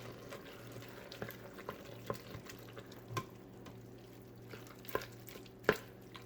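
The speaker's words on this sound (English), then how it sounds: "So now we want to stir it, just because it is still hot down at the bottom. So just stir it all around." Spoon stirring a hot keto cheese dip in a Fissler multi pot, faint and steady, with soft scrapes and occasional sharper taps against the pot over a low simmering hum.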